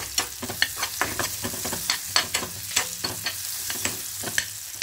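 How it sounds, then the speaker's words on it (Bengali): Radish pieces fry in a pan with a little turmeric, a continuous close sizzle broken by frequent sharp scraping and stirring strokes at an irregular rhythm, with no talking. "এবার মূলোটাকে হালকা একটু লাল লাল করে ভেজে নেব।"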